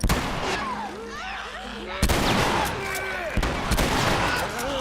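Shotgun blasts in The Last of Us ring out as three sharp, loud reports spaced about a second apart, with pitched game sound effects and chatter between shots.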